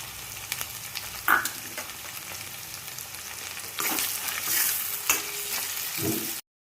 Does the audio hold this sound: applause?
no